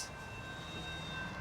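Union Pacific freight train begins to roll, a steady low rumble with faint metallic wheel tones, constant and moderately distant, with no voices.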